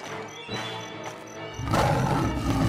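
A tiger's roar from an animated story set in a forest, where the tiger attacks an old woman: a loud, rough growl that swells into a louder, fuller roar over the second half, with background music beneath.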